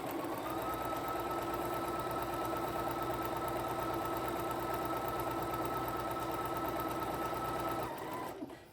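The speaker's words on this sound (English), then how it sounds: "I'm just going to sew directly on top of that line in between space 1 and space 2" A sewing machine stitches steadily along a seam line in foundation paper piecing, a loud, even mechanical whirr with rapid needle chatter that runs continuously for several seconds before stopping near the end.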